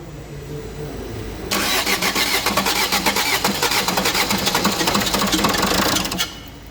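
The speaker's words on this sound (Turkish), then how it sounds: "Marşa bas." A Fiat Doblo's 1.3 Euro5 engine cranks with a fast, loud, rhythmic starter whir lasting several seconds and then cuts off. The engine does not catch and settle into a clear idle. Quiet background hum runs before and after the cranking.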